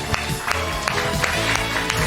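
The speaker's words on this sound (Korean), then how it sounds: "여러분 모두에게 박수." Applause in a high school church youth service, short and dense clapping with irregular sharper claps over a busy mix of sound.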